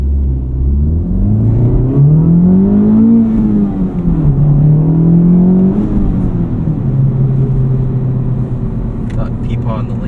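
2025 Audi RS3 accelerating hard at night from a standstill without launch control, the engine note climbing loud and close through a long surging pull with a brief dip between gears, while people chatter inside the cabin.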